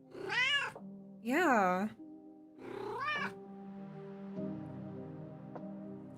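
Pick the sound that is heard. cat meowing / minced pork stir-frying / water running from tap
cat meowing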